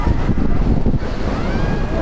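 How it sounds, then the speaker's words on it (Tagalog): Strong wind buffets a rider on an amusement park ride at Asiatique, a loud, steady rushing roar close to the microphone for about two seconds, with no talk. "Lakas ng hangin, sarap."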